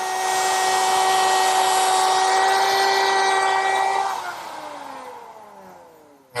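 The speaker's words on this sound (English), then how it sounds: "The slots are cut in the rails using a 1/4 inch slot cutting bit" A router fitted with a 1/4 inch slot cutting bit cuts slots in wooden table rails, a loud, steady high-pitched whine that winds down in a falling pitch near the end.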